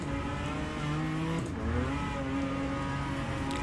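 A race car engine roars continuously while lapping Lime Rock in the rFactor 2 racing game, its pitch rising and dipping through gear changes, loud and close with no talk over it.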